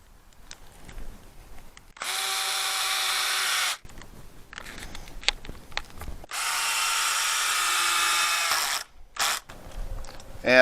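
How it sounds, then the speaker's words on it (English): A power drill drives fasteners during a greenhouse build, with two long, steady whining runs of about two seconds each and a shorter burst near the end, separated by quiet handling clicks and knocks. "Grab my drill."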